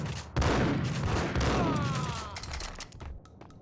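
Rapid gunfire in the Max Payne shooter: a loud burst of overlapping shots with booming low-end impacts, sustained for a couple of seconds, then scattered single sharp cracks trailing off.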